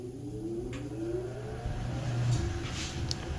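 A Katool KT-B700 wheel balancer spinning up a motorcycle wheel on its motorcycle adapter, a close motor whine rising in pitch with faint ticks over it.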